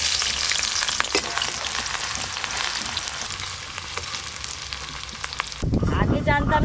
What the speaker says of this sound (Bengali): তাই প্রথমে বেরেস্তা ভেজে নেব।